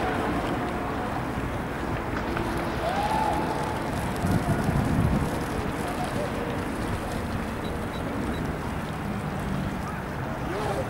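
A motorboat engine runs at full throttle on open water, a steady broadband roar that continues throughout, mixed with wind buffeting and rushing water.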